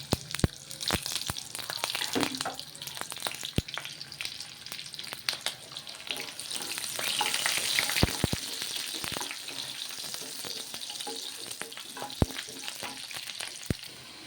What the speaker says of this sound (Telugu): ఉల్లిగడ్డలు వేగుతున్నాయండి